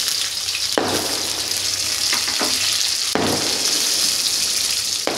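Potatoes and pumpkin fry in hot oil with a steady, bright sizzle, broken by a few sharp bursts of spitting as the pieces are stirred or added.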